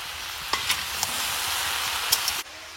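Shrimp fry in a pan with turmeric and salt, a steady soft sizzle with a few sharp crackles and pops, ending abruptly.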